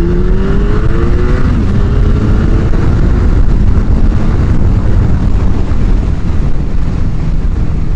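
A motorbike engine revs steadily and close, a loud continuous rumbling drone with a brief rising tone early on, buffeted by wind noise throughout.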